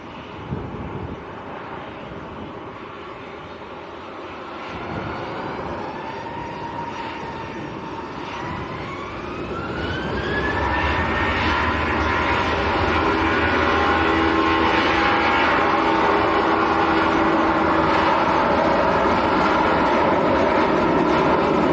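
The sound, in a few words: Brussels Airlines Airbus A319 landing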